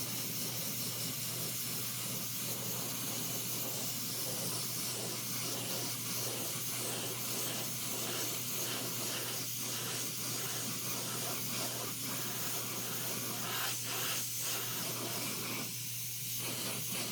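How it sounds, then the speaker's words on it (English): Airbrush misting Vallejo dark green wash onto a 1/4 scale model figure, a steady loud hiss of spray that runs without a break, with small changes in pressure and no talking. "this is Vallejo wash dark green over all this. I'm gonna back off and mist it on."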